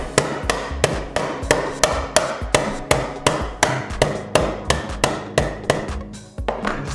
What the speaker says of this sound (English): And this is where you might need the hammer.